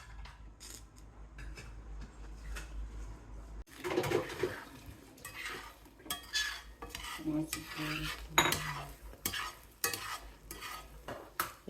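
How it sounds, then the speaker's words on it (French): Beaten eggs are poured into a frying pan with olive oil, followed by a soft sizzle, repeated stirring and clinks of a utensil against the pan, close and moderately loud, with no talking. "Je vais les mettre dans ma poêle que j'ai préparée avec un peu d'huile d'olive."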